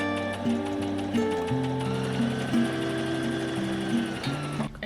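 A sewing machine stitching a t-shirt into a tank top runs in close, steady bursts, its motor whirring up and down in short repeated runs before stopping near the end.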